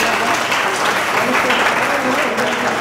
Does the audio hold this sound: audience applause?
yes